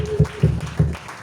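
A church congregation clapping in steady rhythm, loud and close, several even beats in a little over a second.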